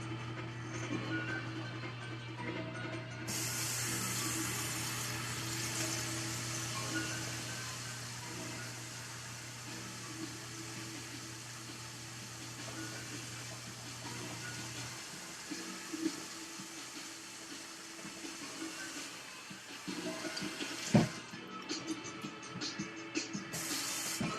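Tap water runs steadily over a vinyl record while its glued-on paper center label is rinsed away, a broad hissing spray that holds for about sixteen seconds before tapering into small splashes and handling noises.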